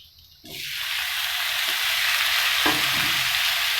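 Tomatoes dropped into a hot pan with chilli garlic sausages burst into a loud, steady sizzle after a quiet start, with a few stirring scrapes and clatters near the end.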